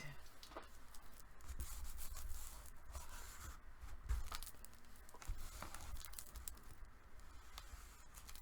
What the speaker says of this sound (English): Burnish it on.